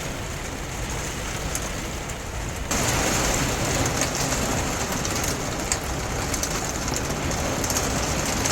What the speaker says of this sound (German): Abends zog dann schließlich noch ein Gewitter über uns hinweg.